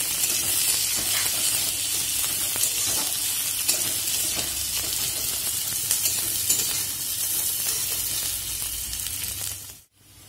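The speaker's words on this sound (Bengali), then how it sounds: "পেঁয়াজটা ভাজা ভাজা হয়ে গেছে" Onion frying in a pan for a greens dish with peas, a continuous close sizzle with scraping stirs, cutting off abruptly near the end.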